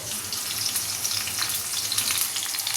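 Garlic and green chillies fry in a pan with a steady, close, dense sizzle that holds at an even level from start to finish, with no talking.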